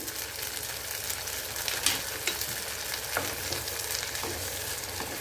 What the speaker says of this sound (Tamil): இப்போ வெங்காயம் வதங்கியாச்சு இப்போ நம்ம எடுத்து வச்ச அந்த சுண்டல் முருங்கைக்காய் கத்திரிக்காய் எல்லாத்தையும் சேர்த்துடலாம்